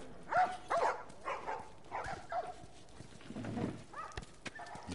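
Dogs in a market scene in The Last of Us game bark and whimper in short, moderately distant bursts, mixed with footsteps and clattering in the background.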